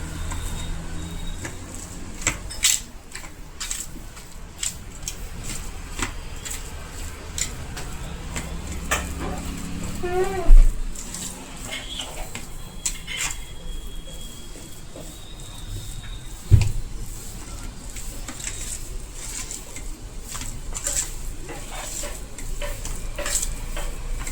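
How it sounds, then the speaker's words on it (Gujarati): Raw banana vada batter being mixed by hand with sugar and lemon juice, a close, continuous squelching stir with scraping against the bowl and two sharper knocks partway through. "હવે આ બધું મિક્સિંગ કરી લેશું"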